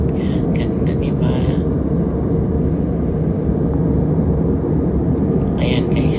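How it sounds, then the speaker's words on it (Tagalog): Steady loud roar of a jet airliner cabin in flight over Canadian airspace, a constant broadband engine and air rush filling the whole stretch, with faint voices briefly underneath. "Pero nasa aeroplano lang tayo guys, nakasakay."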